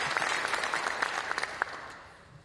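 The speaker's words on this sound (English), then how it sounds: "Why don't you give yourselves a round of applause?" An audience gathered at a township event in a high school gives a brief round of applause, moderately faint and fading out over a couple of seconds.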